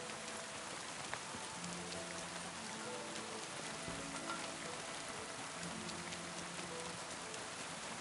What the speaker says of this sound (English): It's like it hasn't stopped raining from here.